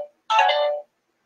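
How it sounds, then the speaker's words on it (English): A phone rings with one brief, bright electronic tone burst that cuts off quickly, surrounded by silence. "Phone's going off."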